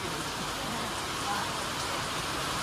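Heavy rain falling outside a college in Mahuva, a faint, even hiss of steady downpour that holds at the same level throughout.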